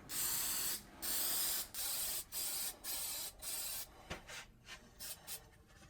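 Lacquer sprayed onto a padauk wood knife case in short hissing bursts, several repeated pulses of aerosol spray with brief pauses between, close and fairly quiet, with no talking.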